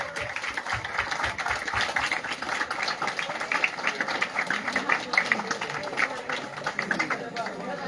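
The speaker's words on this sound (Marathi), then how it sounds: "टाळ्या वाजा फक्त" Crowd clapping as a retirement cake for a military officer is cut at a village gathering, continuous rhythmic applause with people talking throughout.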